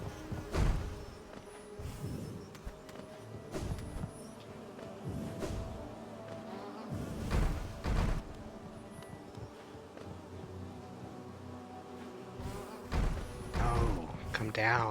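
A big bee enemy in the Hollow Knight video game drones with a steady buzzing hum, broken by several heavy thumps and crashes against a wall, moderately quiet overall.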